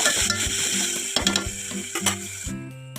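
Onion and ginger-garlic paste sizzle steadily in a hot pan, with a few scraping stirs and a low humming tone underneath.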